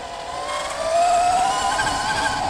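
An electric bike motor whines steadily during a test ride, the pitch gently rising as it speeds up below full throttle, with a constant rush of wind and road noise.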